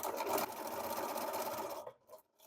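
Sewing machine stitching fabric for a zero-waste bread bag, a close, steady whirring hum for nearly two seconds before stopping, followed by a few brief soft bursts.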